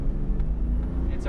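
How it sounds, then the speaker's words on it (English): A Toyota Land Cruiser pulls away hard from a brake-torque launch, its engine giving a steady, close, low rumble that holds at one level for the whole moment. "Let's do an acceleration test. Brake torque for a nice launch."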